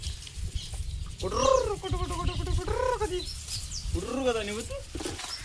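Pigeons coo in a few soft, rolling bursts, close by, with gaps of quiet between the calls.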